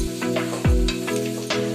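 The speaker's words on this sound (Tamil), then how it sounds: "வெங்காயம் வதங்கினோடனே 1 ஸ்பூன் வத்தப்பொடி, 1 ஸ்பூன் மஞ்சப்பொடி போட்டு அதோட நல்லா போட்டு வதக்கணும்" Onion sautéing in a pan with chili powder and turmeric powder gives a brief steady sizzle, stirred with a few spoon scrapes and one deeper thump, close and without talk.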